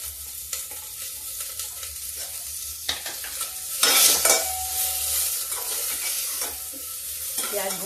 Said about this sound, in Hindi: अब प्याज भून लेते हैं।